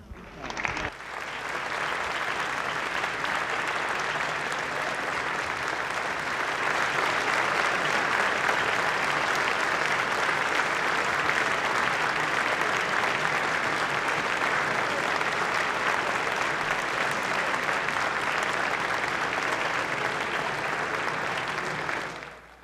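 Sustained, even applause fills the Minnesota House chamber on opening day of the legislative session, a dense steady roar of clapping lasting over twenty seconds before fading at the end.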